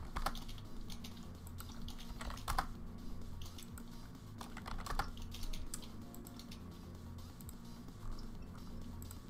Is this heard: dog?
no